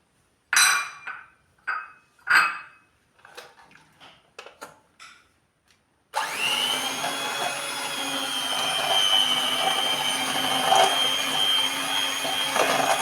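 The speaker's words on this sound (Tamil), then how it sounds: "பட்டரோடு சீனி நல்லா கரையிற வரைக்கும் நாங்கள் இதை பீட் பண்ணி எடுத்துக்கலாம்." An electric mixer starts up and beats butter and brown sugar for a date cake in a steady, close whir, after a few clinks of utensils and bowls being handled.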